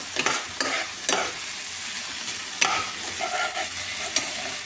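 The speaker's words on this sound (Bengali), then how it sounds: "পাঁচ মিনিট ভাজা হোক, তারপরে জল দিয়ে দেবো।" Dalia, broken wheat, fries with spices and a little sugar in a pan, sizzling steadily while a spoon scrapes and stirs in repeated strokes, close and fairly loud with no talk.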